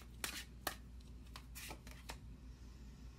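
Tarot cards shuffled and drawn by hand in a quiet room, giving a handful of crisp riffling and snapping bursts spaced irregularly over a faint steady background hum.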